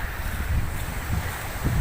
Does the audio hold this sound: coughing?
no